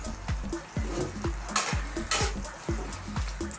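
Hot drained spaghetti is stirred into a cream mushroom sauce in a pan, giving a gentle sizzle under repeated rhythmic scraping and sloshing strokes, about one every half second, close by.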